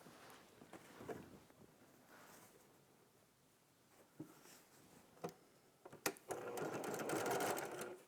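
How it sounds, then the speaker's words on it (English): A sewing machine stitches quilt block pieces together, its fast mechanical whir running in short bursts with pauses and small clicks, then growing louder and steady toward the end. "So let's just lay one on each side and sew these down to finish up our block."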